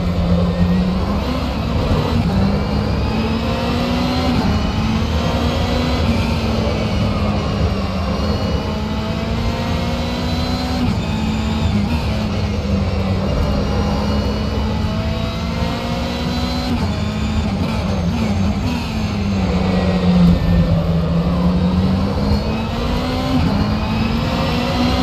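The engine of a Ferrari 488 GTE race car in the rFactor2 racing game at Laguna Seca roars steadily and continuously, its pitch rising and falling through shifts and corners, loud and unbroken for the whole lap segment.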